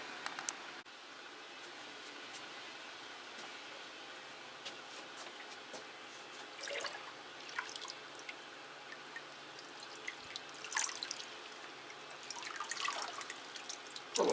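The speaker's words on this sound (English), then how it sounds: "So we'll just water that one." Water pours into a potted Cattleya orchid: quiet trickles and drips come in short bursts over a faint background, with no talking.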